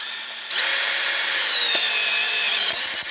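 A handheld power drill spins a tube flaring tool, a Uniweld UDFT, whining loudly and steadily at high pitch for about two seconds after a quiet start, then winding down with a few clicks at the end; no talking.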